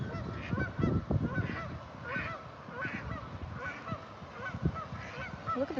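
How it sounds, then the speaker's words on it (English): Agitated geese honk repeatedly at close range in Palm Desert, a rapid overlapping series of loud calls throughout. "these geese are going crazy"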